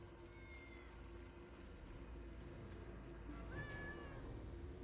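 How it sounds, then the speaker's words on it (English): A black cat in the Black Desert Online video game meows twice, faintly, once early and once near the end, over a steady low ambient drone. "Black cat."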